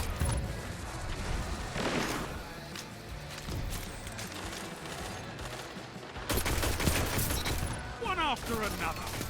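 The HalfDan-D weapon fires in Destiny 2 amid dense game combat, repeated sharp gunshots and bursts mixed with other battle noise and effects across several seconds, with speech occurring at times.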